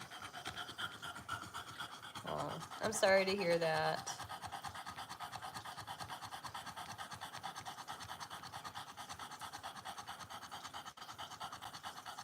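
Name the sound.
dog named Bear panting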